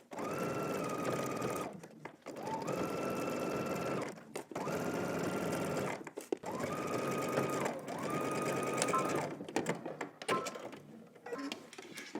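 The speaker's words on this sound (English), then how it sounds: "we're gonna head to the sewing machine and we're gonna stitch" A sewing machine stitches in steady whirring runs, stopping briefly between each of several bursts, close and fairly loud.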